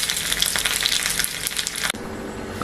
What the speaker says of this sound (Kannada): ಇಲ್ಲಿ ಎಣ್ಣೆ ಹಾಕಿದ್ದೇವೆ, ಇನ್ನು ಅದಕ್ಕೆ ಸಾಸಿವೆ ಹಾಕ್ತಾ ಇದ್ದೇವೆ